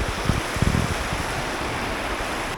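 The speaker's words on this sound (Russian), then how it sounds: "Река превратилась в сотни небольших ручейков, текущих среди камней" A river spread into many small streams flows over a field of stones in the Eastern Sayan mountains, making a steady broad rush of water, loud and continuous, with a few low gusts early on.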